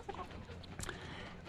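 Laying hens in a coop cluck continuously nearby, several birds overlapping in a busy, steady chatter with a few sharper calls rising above it.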